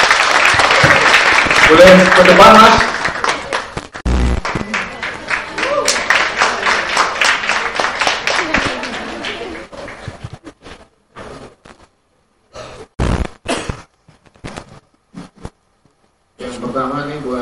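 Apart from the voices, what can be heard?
audience applause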